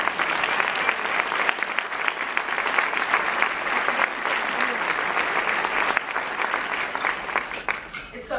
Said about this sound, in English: I need an applause for 10 years.